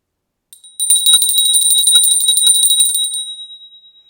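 A mindfulness bell is struck once with a bright metallic tone, ringing clearly alone and slowly fading away over several seconds.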